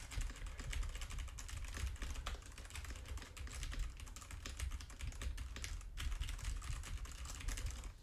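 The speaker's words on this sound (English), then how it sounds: "We'll put the keyboard behind it and see what this will sound like." Steady, continuous typing on a computer keyboard placed behind an Asus ROG Carnyx gaming microphone, a dense patter of key clicks with a low background rumble, no voices.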